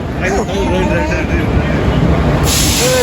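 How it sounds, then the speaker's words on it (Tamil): A train arriving at a station in Kerala rumbles and hisses steadily close by, with wheel squeal and a high whine, and people talk over the noise. "ட்ரெயின் வந்துருச்சு."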